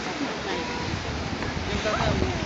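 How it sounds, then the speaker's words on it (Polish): Rough sea surf at Rewal on the Baltic coast, beneath a pier, churns steadily as a broadband roar with gusty wind buffeting the microphone, constant and close throughout. "Fale zburzone są."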